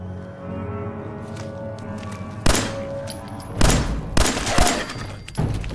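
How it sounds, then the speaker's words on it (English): Gunfire in the video game Fallout 4: a few sharp, loud shots spaced irregularly over steady low background game sound, with no talking. "Missed 2 shots in a row."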